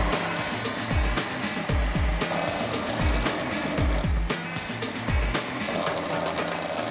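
A Philips food processor grates carrots finely with its fine-side blade, a loud steady motor whir broken by repeated low thumps as chunks hit the disc, with no talking.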